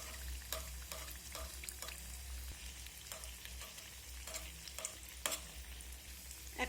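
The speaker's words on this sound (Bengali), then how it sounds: "আমি মিডিয়াম আঁচে উল্টে পাল্টে চপগুলোকে ভেজে নেব।" Jackfruit chops fry in hot oil at medium heat, with hot oil spooned over their tops, giving a steady close sizzle broken by occasional brighter crackles and spatters, with no voices.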